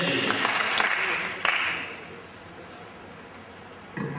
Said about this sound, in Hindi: जोरदार ताली बजाइए, जोरदार।